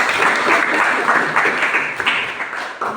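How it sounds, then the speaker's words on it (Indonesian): A classroom group applauds after a student group's presentation, a dense wash of claps filling the room at steady loudness, fading a little toward the end, with faint voices underneath. "Silakan tepuk tangan untuk"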